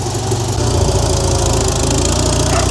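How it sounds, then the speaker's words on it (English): A farm tractor engine idles close by with a steady, loud mechanical drone and a fast, even pulsing throb that holds for the whole short stretch. "I'm just going to go ahead and hook this tractor up to Caper's bale wagon"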